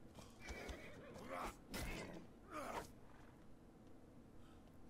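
A horse in the video game Atlas whinnies in three strong bursts close by, over a soft, constant background hiss, with no voices.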